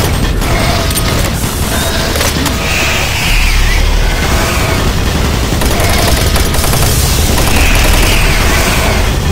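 Automated turret guns in DOOM 3 fire loud, sustained bursts of rapid mechanical gunfire, with heavy booming thuds and clattering mechanisms packed densely throughout, no voices.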